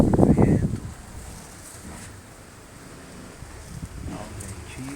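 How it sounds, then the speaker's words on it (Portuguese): Wind blowing outdoors during an afternoon church service, a steady low rushing that rises louder at the start and then settles into a softer, continuous background with faint rustling. "Vento."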